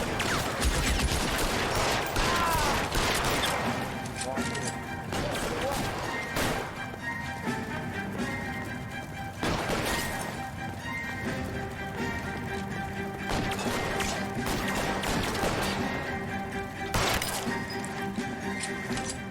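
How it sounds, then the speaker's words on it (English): Gunfire in the video game L.A. Noire: dense, sustained volleys of shots and sharp cracks crowd the whole stretch at steady loudness, with several stronger bursts standing out above the constant battle noise. "Open fire!"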